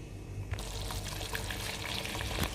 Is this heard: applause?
no